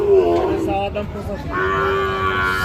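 A four-month-old Sahiwal bull calf moos at a cattle market, a strong drawn-out bellow that starts loud, eases, then swells again with a bright tonal call near the end; no voices.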